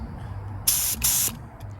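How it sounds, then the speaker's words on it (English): An automotive spray gun loaded with acetone hisses in two short, loud bursts separated by a brief pause, against a low background hum. "Right now, I have acetone inside of the gun."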